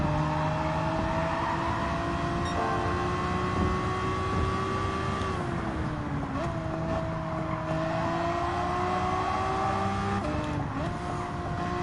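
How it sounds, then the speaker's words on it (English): Race car engine in Gran Turismo 7 fitted with an anti-lag system, droning steadily with rising and falling revs and brief drops where exhaust pops would come, loud and continuous without talk. "Just pop out the exhaust by having an anti-lag system."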